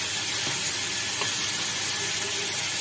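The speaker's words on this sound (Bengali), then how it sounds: "আমি এবার লাল লাল করে আলুটাকে ভেজে নিচ্ছি।" Potato pieces fry in hot oil with a bay leaf in a home kitchen, browning until reddish; the dense sizzle and hiss hold steady and close throughout, broken by a couple of faint stirring scrapes.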